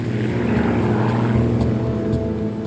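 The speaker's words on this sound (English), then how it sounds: "The plane was heading north over the Florida coast" Steady drone of a small propeller airplane in flight over the Florida coast, a constant loud engine hum with buzzing harmonics throughout, no voices.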